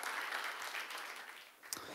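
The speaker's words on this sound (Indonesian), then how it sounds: "Kita berikan tepuk tangan." Congregation at an online church worship service applauding together, a steady wash of clapping that carries on alone throughout and stays fairly faint.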